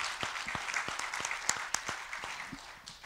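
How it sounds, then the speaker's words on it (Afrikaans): A church congregation gives a round of applause, scattered hand claps that are fairly soft and steady and carry on for a few seconds. "Kom ons geef hom 'n lekker hande klap."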